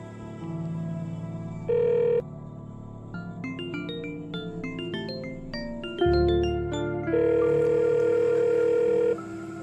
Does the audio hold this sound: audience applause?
no